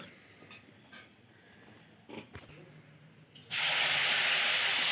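Oil hitting a hot pan for a village-style chili-garlic thecha bursts into a loud, continuous sizzling hiss after a quiet stretch with faint background noise.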